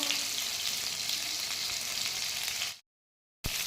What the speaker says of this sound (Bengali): আর এই যে মাছ ভাজা হচ্ছে, দেখো।